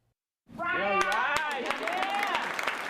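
Applause with cheering and overlapping voices in a courtroom during a drug recovery court session, starting abruptly and staying steady, with a few sharp claps standing out over the crowd noise.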